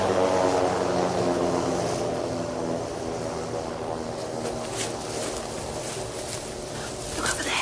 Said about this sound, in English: Sorry, helicopter. It's landing on the front lawns of the embassy